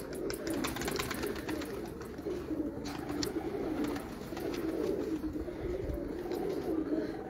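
Pigeons coo on a rooftop, their soft, low, rolling calls repeating continuously and overlapping at moderate distance, with faint outdoor ambience behind them.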